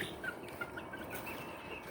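Soft, steady clucking from chickens against a constant farmyard background, with a few short higher chirps scattered through.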